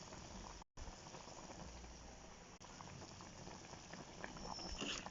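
A home-cooked dish boils in a pot, a dense, steady bubbling and sputtering that stays close and continuous, with one brief dropout near the start and no talking.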